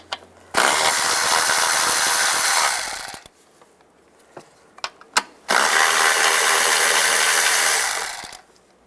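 A socket wrench spins off the valve-cover nuts on a 2007–2018 Jeep Wrangler, giving two long, loud bursts of steady mechanical whirring a few seconds apart, with quiet clicks and clunks between them.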